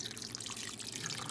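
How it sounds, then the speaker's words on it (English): A thick, smooth potato soup mixture is poured over hash browns in a crock pot, giving a soft continuous wet trickle and splash that lasts briefly and stays close and fairly quiet. "So I'm gonna go ahead and add this in to the hash browns that I already have in my crock pot. So I'm just gonna pour this over."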